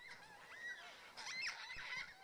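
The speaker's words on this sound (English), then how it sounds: "we came across a flock of yellow-tailed black cockatoos" A flock of yellow-tailed black cockatoos on the way to Patriarch Inlet, Flinders Island, gives wailing, rising calls, fairly faint and distant, two or three overlapping cries in quick succession.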